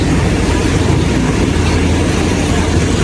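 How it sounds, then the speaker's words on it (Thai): Local train 447 from Surat Thani to Sungai Kolok at a Thai railway station gives a loud, unbroken roar of engine and rolling carriages, close and constant. "รถไฟท้องถิ่นขบวน 447นะครับ"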